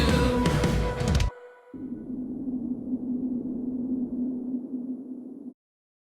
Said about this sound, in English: That black hole sound there is really cool.